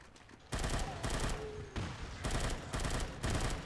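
Sustained bursts of rapid automatic gunfire at zombies in the video game Unkilled, loud and dense, repeating in several long volleys with brief gaps between.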